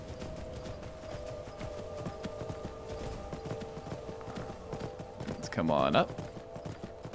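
A horse in the video game Skyrim: Anniversary Edition clops along at a steady walking rhythm, quiet beneath someone talking. A louder burst rises briefly near the end.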